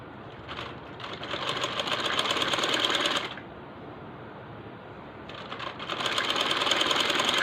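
A sewing machine stitches a sleeve in two steady runs of fast, even mechanical whirring, loud and close, separated by a few seconds of quiet hum, with no voices.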